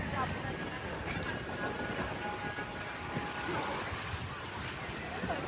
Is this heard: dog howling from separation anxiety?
no